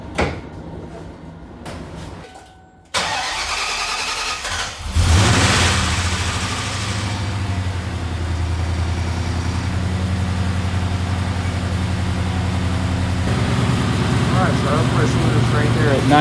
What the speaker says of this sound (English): So let's get this started.